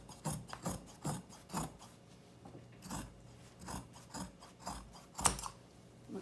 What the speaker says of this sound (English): let me cut off the seam allowance that's here